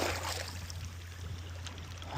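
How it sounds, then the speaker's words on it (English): Hand sweeping through cold ocean water along the Vancouver Island shore in British Columbia, a steady close swishing and trickling wash that continues throughout with no talking. "as I put my hand through the water"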